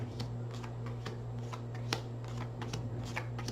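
A deck of tarot cards is shuffled close up in a quiet room, with repeated crisp riffles and flicks in quick, uneven bursts over a low steady hum.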